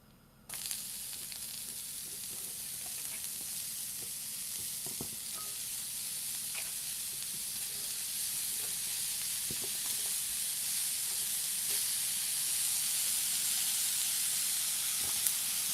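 Wild agaricus mushrooms hit a very hot, crowded pan and burst into a loud, hissing sizzle that holds steady and swells slightly, with occasional stirring clicks and no talking.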